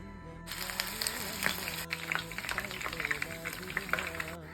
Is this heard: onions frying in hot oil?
yes